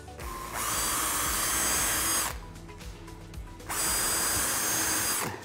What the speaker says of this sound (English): And then to drill.